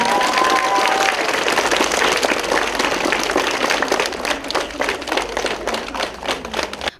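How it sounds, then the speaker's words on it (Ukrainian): An audience at a first-day-of-school ceremony gives teachers loud, sustained applause, dense clapping that thins into more distinct individual claps toward the end. "А вас попрошу гучними оплесками привітати наших вчителів"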